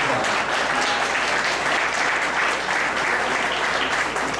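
Steady audience applause at an outdoor memorial ceremony, a dense even wash of many hands clapping that holds at full strength for several seconds without a break.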